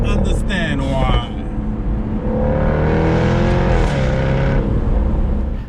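Jaguar F-Type R sports car exhaust, a loud, sustained engine drone that rises and falls in pitch as the car revs, steady and close throughout.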